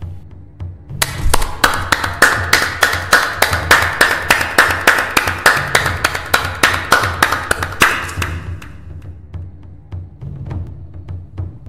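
Audience applause at the opening of an International Men's Day event in Moscow: close, steady rhythmic clapping in unison for about seven seconds, then breaking into a few scattered, fading claps.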